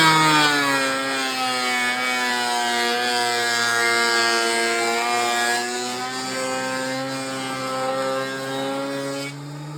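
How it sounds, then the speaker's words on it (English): A thickness planer feeds a glued-up wooden cheeseboard blank through its cutter head, giving a loud, steady, close whine with strong tonal harmonics that holds for the full stretch and eases slightly near the end. "preparing to send this piece through the planer"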